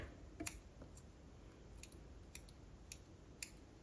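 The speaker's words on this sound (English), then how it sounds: "And then I take my scissors." Faint, crisp scissor snips cutting bangs at irregular intervals, a handful of quick cuts over a quiet, low background hiss.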